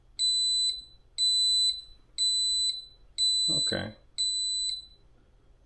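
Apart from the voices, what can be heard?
digital wall clock countdown alarm beeping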